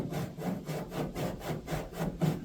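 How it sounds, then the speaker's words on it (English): A coarse rasping body file scrapes back and forth over filler on a car panel in steady, regular strokes, about eight passes, close up with no talking. "how I use a cheese grater"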